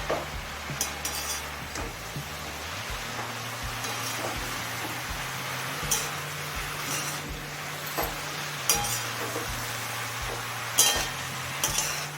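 Red spinach is stirred in a pan over a high flame, a steady frying hiss punctuated by scattered scrapes and light metallic clinks of the utensil against the pan.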